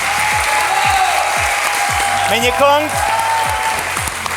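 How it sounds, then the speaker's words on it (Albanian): A talent show audience applauds loudly and continuously as a dense wash of clapping, while a presenter speaks over it and background music with rhythmic sweeping tones plays. "Kështu që kjo duartrokitje ishte e gjitha për ju"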